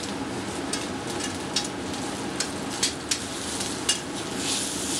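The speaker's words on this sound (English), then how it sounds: "I'm going to give this a nice char on one side, char on the second side" Food searing over high heat in a hot pan, a steady close sizzle with scattered crackles and light pops, no voices.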